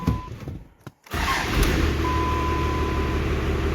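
A truck engine, its idle and pre-boost freshly adjusted, cranks after a brief silence and catches, then settles into a loud, steady running idle close by.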